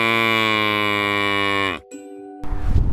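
A cow gives one long, loud, sustained moo that lasts nearly two seconds and then tails off, followed by a short faint sound and rough, noisy background.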